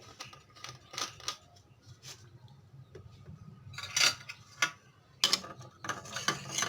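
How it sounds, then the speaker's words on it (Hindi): Spoon scraping and clinking in a small bowl while mixing an apple vinegar hair treatment, heard as faint, irregular metallic taps and scrapes up close, with no talk. "अब हम इनको अच्छे से मिक्स कर लेंगे।"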